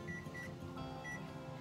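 A kitchen timer being set in a home kitchen gives several short, faint beeps over low background noise.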